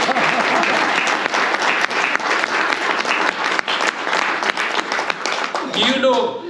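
Audience applause at an airline inaugural launch event for Perth flights, a dense, sustained clapping from a large crowd filling the room and tapering off at the end.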